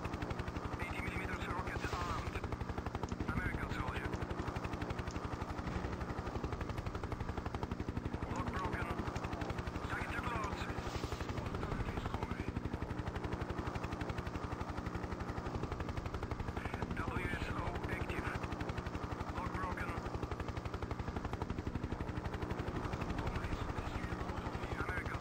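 A Hind attack helicopter in the 1996 combat flight game Hind, with a continuous rotor thrum and bursts of gunfire against a dense, steady battle din, while a voice talks over it.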